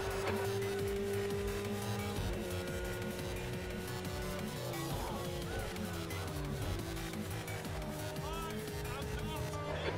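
GT3 race car in Project CARS 2 at Dubai International, its engine droning steadily throughout with shifting tones, mixed under game sounds and a voice.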